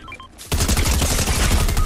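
Sustained burst of video-game gunfire with rapid, dense shots, loud and close, starting abruptly after a brief quieter moment and continuing without pause.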